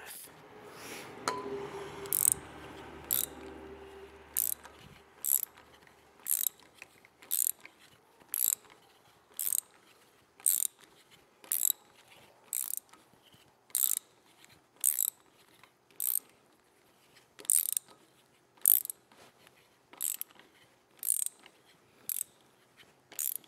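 A socket wrench ratchets while brass taper pins are installed, with sharp regular clicks roughly once per second, close and clear against near silence after some brief handling noise at the start.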